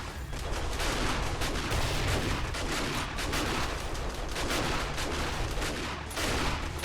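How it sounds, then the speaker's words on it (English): A turret in 7 Days To Die firing steadily into a pile of zombies, a loud, unbroken rattle of rapid shots close by that keeps up without a break, with no talk over it. "we're going to turn on our good turret now"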